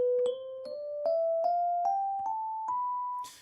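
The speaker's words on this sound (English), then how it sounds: "the last one we got to go through, though, is called Locrian, and it sounds like this." A Locrian mode scale played as a rising run of about eight single, evenly spaced struck notes, each ringing briefly before the next, climbing steadily to the octave and ending in a short noisy burst.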